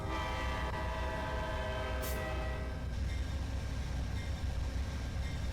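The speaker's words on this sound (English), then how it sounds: "And for the fun of it, let's blow the horn." A simulated Amtrak P42 diesel locomotive in Trainz Simulator 3 sounds a loud, steady multi-tone horn for about two seconds, then it cuts off and the continuous rumble of the train carries on.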